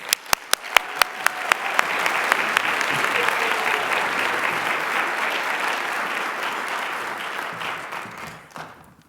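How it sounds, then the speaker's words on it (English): Applause at an awards ceremony for honoree Patricia Jacobs begins with a few sharp separate claps, then swells quickly into loud, dense clapping from a large audience that holds for several seconds before fading toward the end. "Please join me in a big round of applause for Patricia Jacobs."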